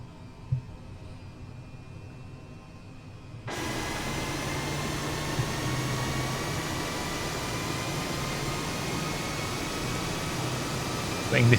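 An Airbus H135 helicopter in Flight Simulator 2020 spools up its rotors, a broad steady whooshing turbine roar that jumps in loudness partway through and holds with a faint rising whine, while someone talks over it.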